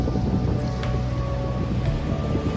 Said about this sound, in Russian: Приятный морской бриз.